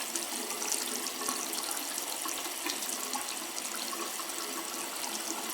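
Water runs steadily from a faucet fitted with an LED gadget, a continuous close hiss and splash at moderate volume with no voices.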